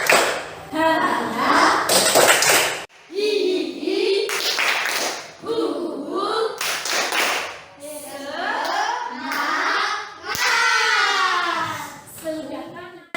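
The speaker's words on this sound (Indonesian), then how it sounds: "Agar pagi ini kita semangat, tepuk semangat." Schoolchildren in a classroom perform the 'tepuk semangat' rhythmic clap, bursts of claps in quick patterns alternating with their chanted calls and voices.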